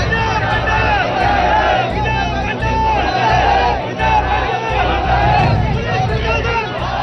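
A large crowd gathered for a funeral procession, a continuous loud murmur of many voices with shouting and babble, with some intermittent low thumps.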